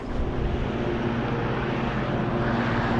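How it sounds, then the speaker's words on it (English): A continuous droning engine hum with a steady low buzz runs throughout, like a lawnmower running close by, loud and unbroken. "Sorry about the lawnmower noise."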